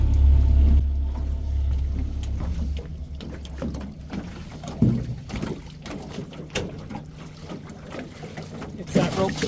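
A small boat is rowed back in toward shore, with low rumbling water and wind noise, intermittent knocks and splashes, and voices talking throughout.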